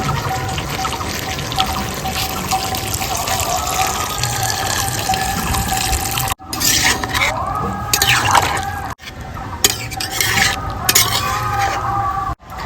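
Water poured into braised chicken curry in a pot and stirred, with a running liquid wash and scraping stirs that break off twice, a voice talking over parts of it.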